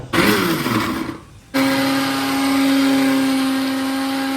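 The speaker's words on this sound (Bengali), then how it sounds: "আমার মিক্সচার মেশিনে আমি গার্লিক ঢেলে দিয়েছি এখন পেস্ট করব" A mixer grinder blending garlic into paste: a short loud burst of whirring, a brief pause, then a steady high-pitched motor whine running close and loud to the end.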